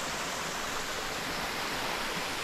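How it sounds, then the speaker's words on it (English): A waterfall streams out of rocks and under a beach, giving a steady, dense rushing hiss of water that holds constant throughout, with no voices. "other end of the waterfall coming out of the rocks and under the beach"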